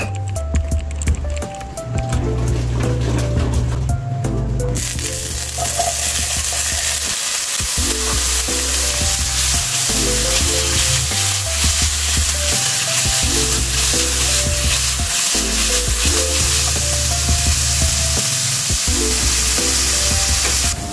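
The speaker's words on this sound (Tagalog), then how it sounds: "Lagay muna natin yung ating cooking oil dahil magpa-fried muna tayo ng ating patatas at saka yung ating carrots" Potatoes and carrots fry loudly in hot cooking oil in a pan, sizzling steadily and close for about twenty seconds while utensils stir and clink.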